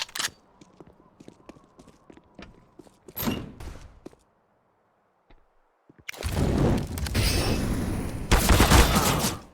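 Submachine gun fire in Counter-Strike on the Nuke map, scattered quick shots and clicks, a short rattling burst, a brief lull, then sustained loud automatic fire with heavy bursts to the end.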